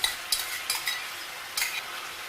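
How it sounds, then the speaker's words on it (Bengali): Green chillies frying with chicken in a pan for chicken curry: a soft continuous sizzle broken by several sharp scraping stirs of a spoon against the pan, close by, without speech. "লঙ্কাগুলোকেও চিকেনের সাথে ভাজতে থাকবো।"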